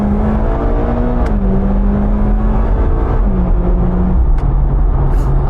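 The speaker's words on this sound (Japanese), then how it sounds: "もう一回アクセルベタ踏みオン。" Mitsubishi Lancer Evolution X with 280 hp and S-SST gearbox accelerating at full throttle in sport mode, engine drone rising steadily in pitch with brief shift dips, loud and continuous from inside the cabin.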